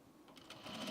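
A home sewing machine stitches fabric for men's pants in a short, steady mechanical whir that grows slightly louder toward the end, with no talking.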